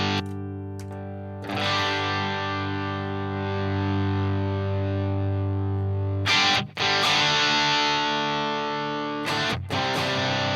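Compulsive Drive overdrive guitar effect compared on Headrush and Helix modelers, heard as sustained overdriven chords that ring out loud and steady, with brief chord changes and choppy restrikes toward the end.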